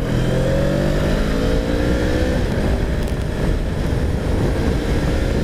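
A 2017 Honda Rebel 500 twin-cylinder motorcycle pulls hard at speed, its engine a loud, steady drone with rising pitch sweeps and wind roar, heard close with no voices.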